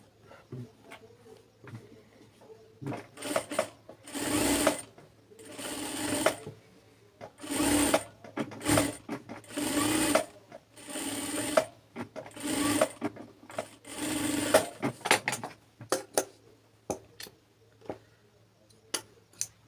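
Sewing machine stitching a palazzo hem: repeated bursts of rapid mechanical whirring, each lasting about a second, separated by short pauses and quiet handling of the fabric.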